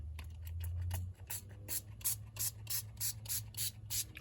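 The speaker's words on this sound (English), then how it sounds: "It's a super fine spray" A spray bottle gives a series of quick, hissing spritzes in a steady rhythm, close by, after a brief low hum.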